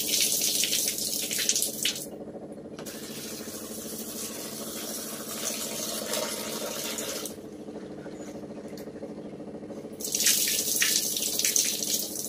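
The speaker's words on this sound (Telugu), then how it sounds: "శనగలు ఇప్పుడు కడిగి వేసుకున్నాం." Tap water runs steadily into a kitchen sink as chickpeas are rinsed, a close, continuous splashing flow that briefly softens twice before surging again.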